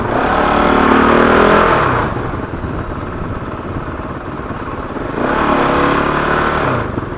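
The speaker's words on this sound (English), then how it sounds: "if you thought a KTM motor was noisy, this one by far is, to me, noisier than the KTM." A KOVE 450 Rally motorcycle's single-cylinder engine rumbles loud and close while riding through traffic, swelling twice with throttle and easing to a steadier drone in between.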